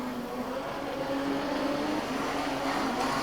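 A modified production race car at a speedway engine meeting drones through its run with a rough, uneven tone as it misfires. Its engine sits at a steady middle distance with no distinct backfire bangs.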